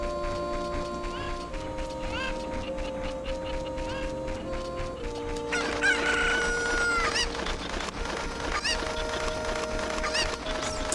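Cucco chickens cluck and crow in The Legend of Zelda: Ocarina of Time, a few short bird calls rising over steady background game music.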